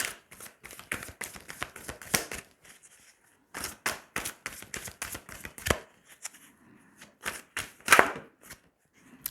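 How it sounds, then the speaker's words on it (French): Tarot cards drawn and laid out one by one during a Valentine's love reading, giving a quiet run of close, crisp card snaps and slides with short pauses between them. "on va tirer 5 cartes"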